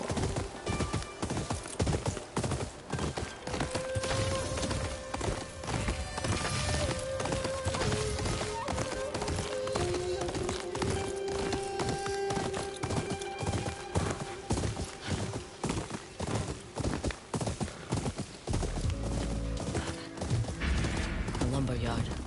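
Horse hooves gallop in the Ghost of Yōtei video game, a steady rapid clip-clop running continuously under a dense game soundtrack, with occasional distant gunfire-like bursts and a voice speaking over it.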